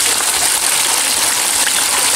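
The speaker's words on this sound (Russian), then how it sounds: "Просто водопадик." A small waterfall built from stacked stones at a garden center pours and splashes steadily, a loud, continuous close-up rush with no pauses and no voices.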